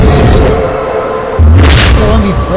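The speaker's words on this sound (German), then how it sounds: "Ist das irgendwie Flashbang oder sowas?" A loud, deep flashbang-like boom erupts midway through gameplay in the video game Eragon, a sudden heavy low thud that rings on briefly over a sustained droning background.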